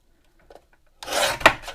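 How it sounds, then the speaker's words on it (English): A short dry rasp of cardstock being trimmed for a gift card holder, with a couple of faint ticks before it and one sharper scrape within. "So let me just trim this just a bit."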